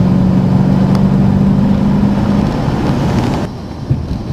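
A BMW 650i Coupé's V8 engine gives a loud, deep, sustained rumble with a steady low tone, then drops off sharply near the end to a quieter idle, with one short thump afterward.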